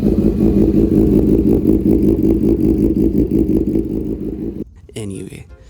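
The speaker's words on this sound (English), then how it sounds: "Jason's CB1000R is fitted with an AR Austin racing exhaust that sounds like it could make the earth shake a few towns over" A Honda CB1000R motorcycle fitted with an Austin Racing exhaust idles and revs with a loud, deep, throbbing rumble close by, easing off near the end as a voice briefly cuts in.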